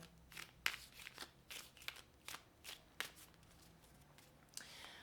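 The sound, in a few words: shuffling tarot cards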